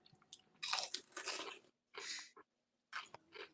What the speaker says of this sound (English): I'm crunching too loud?